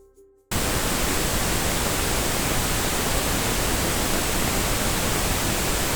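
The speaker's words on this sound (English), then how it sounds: "I'm gonna play you now the pink noise through the AMEK plugin." Steady pink noise played through an AMEK EQ 200 clone plugin, a loud, dense, unchanging hiss that starts abruptly after a brief quiet moment and holds constant to the end.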